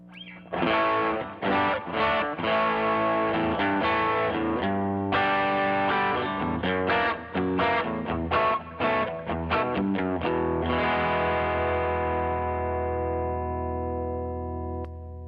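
A distorted electric guitar, a G&L Doheny or Jazzmaster, plays chords and riffs alone, loud and steady, slightly thin in tone, ending on a sustained ringing chord.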